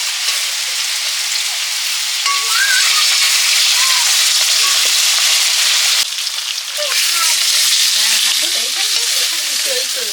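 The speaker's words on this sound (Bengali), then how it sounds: "মাছগুলো ভাজা হয়ে গেছে" Folui fish frying in mustard oil in a pan, a steady loud sizzle and crackle running throughout, with faint spatula scraping and stirring sounds and a brief dip midway.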